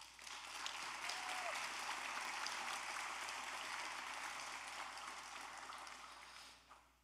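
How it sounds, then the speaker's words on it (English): Sustained applause from a high school graduation audience honoring teachers and staff, a dense, steady wash of clapping lasting the whole stretch and tapering off at the end. "let's give them a round of applause"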